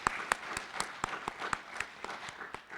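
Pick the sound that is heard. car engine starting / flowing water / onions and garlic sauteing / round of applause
round of applause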